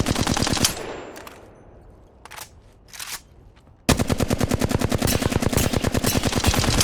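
Automatic gunfire from a video game warm-up on targets, played on a high-sensitivity controller or mouse and keyboard: loud short bursts at first, then a long, steady, rapid stream of shots up close.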